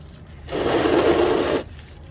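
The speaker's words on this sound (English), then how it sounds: "I'm installing the bolt back with a new washer" A ratchet tightens the transmission drain bolt, fitted with a new washer, on a Honda Element, making one rapid mechanical whirring burst of about a second over a quiet background.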